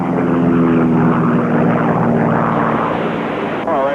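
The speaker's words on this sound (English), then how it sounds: "his AT-6 start plane" A North American AT-6 propeller plane engine drones loudly and steadily nearby at the 1970 Reno air races, a rough tonal hum holding even with a slight shift near the end.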